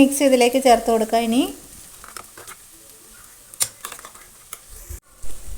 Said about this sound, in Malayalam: ഇത് നന്നായി മിക്സ് ചെയ്ത് യോജിപ്പിക്കുക. ഒരു 2 മിനിറ്റോളം ഇത് നന്നായി വഴറ്റി കൊടുക്കുക.